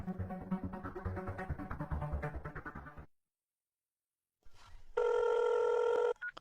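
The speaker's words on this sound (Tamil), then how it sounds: "ஃபோன் எடுக்க மாட்டாரா?" A telephone rings with a single loud, steady electronic tone lasting about a second, heard alone after a stretch of busy music and then a silent gap.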